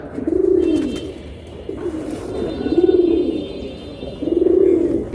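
Pigeons of a fancy flying breed cooing close by, three rounded throaty coo phrases spaced about two seconds apart, with faint background noise and no talking.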